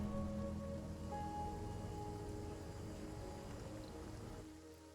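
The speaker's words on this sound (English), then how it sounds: "Toxic rain, really?" Toxic rain falling steadily in the Surviving Mars colony game, a dense, even hiss of downpour with no talk, easing slightly toward the end.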